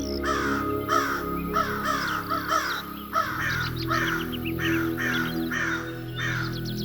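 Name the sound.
crows cawing in Telugu horror story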